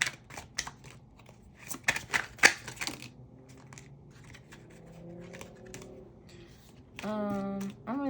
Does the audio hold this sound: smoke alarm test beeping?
no